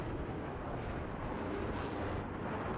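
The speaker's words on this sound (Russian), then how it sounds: "Джейдам прилетает" A JDAM bomb lands in a multiplayer tank battle game, giving a deep, sustained roaring rumble that fills the whole stretch without distinct separate blasts or voices.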